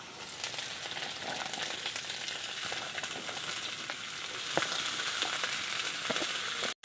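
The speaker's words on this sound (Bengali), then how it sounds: "এই যে আলুটা একটু ভাজা ভাজা হয়ে গেল, এখন আমি আলুটার উপর যে কেটে রেখেছিলাম যে করলাগুলোকে আমি এখন দিয়ে দেবো।" Potatoes and sliced bitter gourd fry in a pan with a steady, close sizzle throughout, broken by occasional sharper crackles and stirring noises, with no talking.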